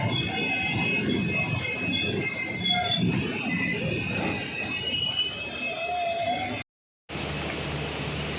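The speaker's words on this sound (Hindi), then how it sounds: "ट्रेन पहुंच रही है बनवसा रेलवे स्टेशन" Purnagiri Jan Shatabdi Express pulling into Banbasa railway station in India, with steady loud rumble of rolling railcars and long high wheel squeals, a brief cut near the end before the noise resumes.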